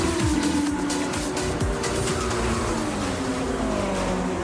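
Engines of race cars, including a BMW, a Subaru and an Audi, roar steadily in a racing video game, with continuous high revving, shifting engine tones and occasional tire noise, loud throughout.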